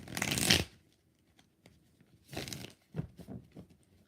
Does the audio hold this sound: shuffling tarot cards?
yes